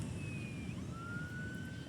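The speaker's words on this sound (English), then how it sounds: "it looks like there's an ambulance on the beach right now, over there." An ambulance siren near a beach in Los Angeles wails in a steady, distant sweeping tone over a constant broadband wash of surf and wind, with no talk.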